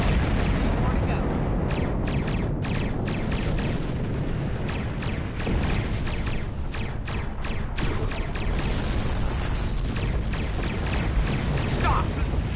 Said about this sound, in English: Use your torpedoes on an enemy when their shield is down.